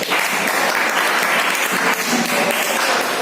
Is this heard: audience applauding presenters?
yes